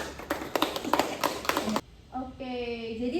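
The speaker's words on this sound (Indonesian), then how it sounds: "berikan tepuk tangan kepada Putri" Students in a chemistry classroom give a short burst of scattered hand claps lasting under two seconds, followed by a teacher's voice speaking.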